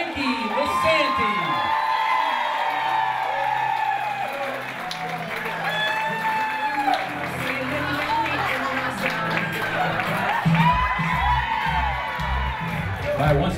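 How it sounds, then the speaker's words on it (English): Crowd applause and cheering with whoops at a wedding party introduction at a golf and country club, loud and continuous over a busy, noisy room. "Let's have a nice round of applause for Andrea Grinchy, escorted by Frankie Lasanti."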